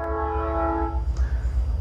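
A train horn sounds in a steady harmonic blast that cuts off partway, leaving the low rumble of the rolling train running loud underneath.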